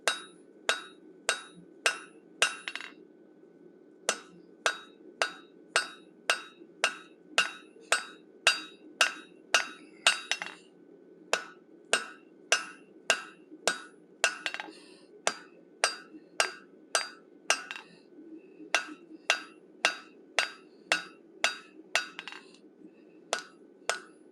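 Hammer blows ring out on hot metal as an animal head is forged on an anvil, dozens of sharp, evenly spaced metallic strikes in a steady rhythm with a brief pause partway through, close and loud.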